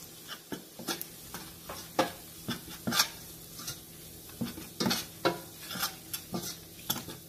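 Chili powder and coriander powder are mixed with a spoon into a pan of palak paneer base, with scattered scraping taps and clinks against the metal over a faint background sizzle.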